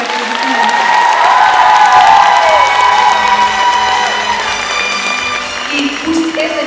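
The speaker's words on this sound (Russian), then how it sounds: "Громкие аплодисменты" Loud applause fills a hall at a celebration in a community arts center, many hands clapping together with cheering, whoops and children's shouts, while music plays underneath and voices rise through the crowd.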